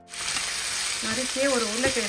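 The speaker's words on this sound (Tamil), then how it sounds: "ஒரு நறுக்கிய கேரட்டை சேர்த்து நம்ம அழகாக வதக்கிக்கலாம்" Carrot, beans and potato pieces sizzle steadily in a hot pan for vegetable kothu parotta, with a soft voice-like tone rising in the background midway.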